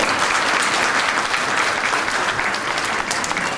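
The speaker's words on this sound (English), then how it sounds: "So let's give them a big round of applause." An audience at a school orientation for young LKG children claps loudly and steadily, a dense sustained wash of applause close by, with faint voices mixed in.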